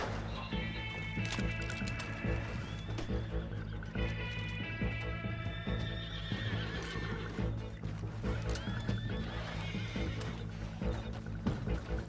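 Horses in Red Dead Redemption 2 Online whinny repeatedly over a steady clatter of hooves and background noise, the neighs rising and falling at a moderate distance.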